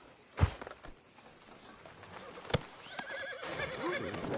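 A horse whinnies in Red Dead Redemption 2, followed by hooves clopping and a busy backdrop of chimes and tonal effects.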